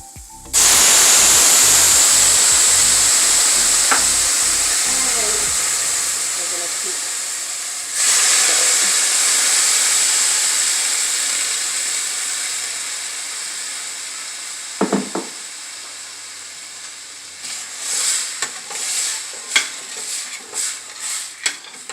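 Wet ingredients hit a hot pan and burst into a loud, sustained hissing sizzle that slowly fades, with a second surge of sizzling midway and stirring clatter toward the end.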